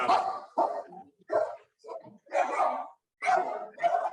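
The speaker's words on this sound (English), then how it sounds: "there was like a pretty big dog bark" Several sharp barks from a reactive terrier mix in quick bursts with short pauses between them, fairly close and loud, with no talking.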